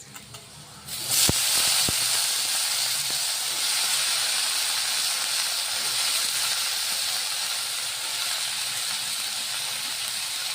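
Bitter gourd pieces dropped into a hot cooking pan set off a sudden loud hissing sizzle after a short quiet moment, with a few clicks at the start, then a steady close sizzle that holds for several seconds without talk.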